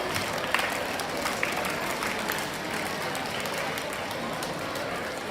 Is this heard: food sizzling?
no